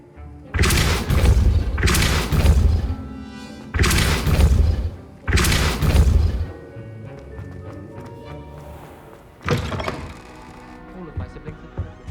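Depulso spells cast in Hogwarts Legacy hit as several loud, heavy booming thumps, each about a second long with pauses between them. Fainter clatter and a few quieter impacts follow later.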